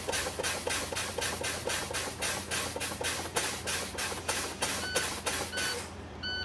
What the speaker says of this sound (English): Air warning buzzer is working properly.